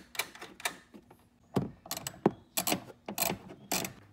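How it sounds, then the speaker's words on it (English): Metal nuts being tightened onto a Toyota 4Runner tail light housing, a series of close ratcheting clicks and short mechanical rattles in irregular bursts, with no talking. "So just go ahead and put the nuts back on to bring your housing and secure your housing"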